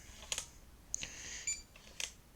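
Three short, high electronic beeps from a Schlage keypad lock, about a second apart, fairly quiet against a faint background hiss.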